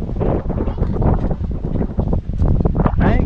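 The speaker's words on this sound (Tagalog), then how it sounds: "Lakas ng hangin." Strong wind at a windmill site in Pagudpud, Ilocos Norte, buffets the microphone in loud, continuous gusts with a roaring, rumbling rush and no pause.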